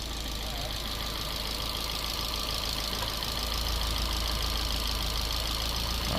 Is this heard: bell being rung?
no